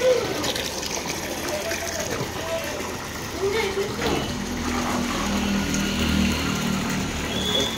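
Water runs slowly from a tap into a container at home, making a steady, low gushing and splashing that lasts throughout while people talk over it.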